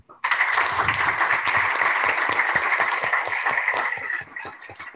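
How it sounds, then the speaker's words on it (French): Audience applause for round-table guests at a panel on shopping and consumer trends starts abruptly and holds as a dense, even clapping for about four seconds before thinning into a few scattered claps. "On peut les applaudir."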